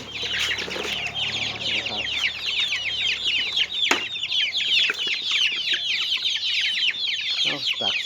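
Many one-month-old chickens cluck and chirp together continuously, a dense busy flock close by with no pauses.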